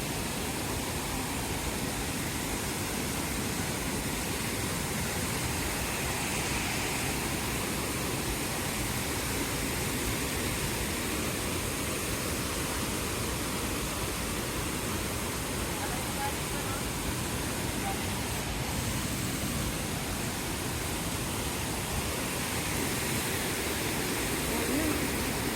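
The Sathmahal Ella waterfall in Deniyaya roars as a dense, unbroken rush of falling water heard close by, steady and loud for the whole stretch.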